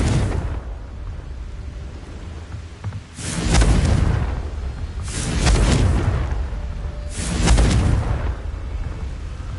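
Three loud, close explosions from Confringo blasting spells in the Hogwarts Legacy video game on PS5 land about two seconds apart. Each is a deep, rumbling boom that swells and then decays, over a low background rumble.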